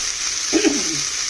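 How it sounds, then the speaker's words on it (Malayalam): Shrimp frying in coconut oil for a tamarind curry gives off a steady, even sizzle that holds throughout, with a brief low rustle of stirring near the middle. "അപ്പൊ ഞാൻ ഇച്ചിരി വെളിച്ചെണ്ണ ഒഴിച്ചിട്ട് ഒന്ന് വറുത്തിട്ട് ഇപ്പൊ വരാം"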